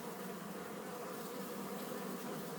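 Honey bees on a colony frame during a hive split, a steady, dense buzzing hum of many insects, soft and close without a break.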